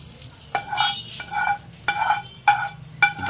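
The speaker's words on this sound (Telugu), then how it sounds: "ఇప్పుడు మనం రెడీ చేసి పెట్టుకున్న తాలింపు వేసి కలుపుకోవాలి." A tempering poured into tiffin-centre style chutney sizzles and fries as a spoon stirs it, with five or six sharp scraping strokes spaced about half a second apart over the crackle, close to the microphone.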